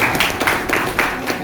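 An audience at a Pancasila talk claps in a brief burst of several uneven, close hand claps under no talk, lasting just over a second.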